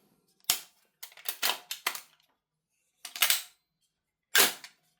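Tokyo Marui-bolt HK416A5 airsoft rifle firing on semi-auto, eleven sharp close snaps, first a lone shot, then a quick uneven burst of six, a pair, and two more spaced shots, with clean silence between.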